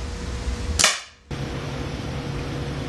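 A single gunshot fires a bullet into a layered target, one loud, sharp crack against steady background noise, followed by a brief quiet gap.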